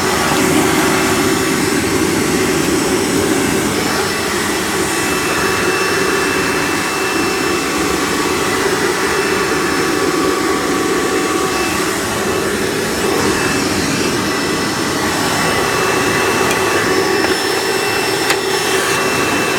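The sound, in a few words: Hoover Breathe Easy U5270-930 upright vacuum running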